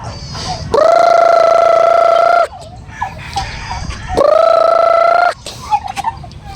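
Pet turkeys feeding, letting out two loud, drawn-out gobbling calls close by, with quieter pecking and rustling between them.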